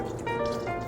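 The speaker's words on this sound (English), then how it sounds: "add 1/4 cup of water to the skillet" A quarter cup of water pours into a skillet where shrimp is cooking, a brief liquid splash and trickle lasting under a second, close and moderately loud.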